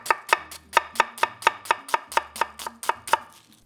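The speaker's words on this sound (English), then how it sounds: "Now, we slice." Brisk rhythmic knife chops slicing onions on a cutting board for French onion soup, about fourteen crisp close strokes at an even pace with no talking.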